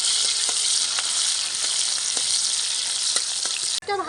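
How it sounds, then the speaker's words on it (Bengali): Chopped onions frying in mustard oil give off a loud, steady sizzle throughout, with faint stirring clicks and a brief clatter at the end; no voices. "পেঁয়াজ কুচি আর পেঁয়াজ কুচি রাউন্ড করে ভেজে নিতে হবে"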